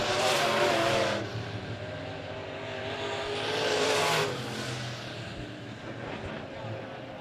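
Midwest Modified race cars circling the dirt track at Monett Motor Speedway during a heat race, engines surging past in two loud roaring waves and fading between, with a commentator's voice running underneath.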